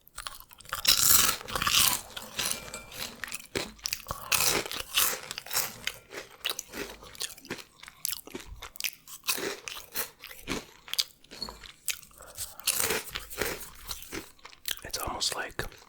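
Imported Cheetos crunch and get chewed close to the microphone in a whispered eating session, the crisp bites and chewing repeating through the whole stretch with soft breathy sounds between them.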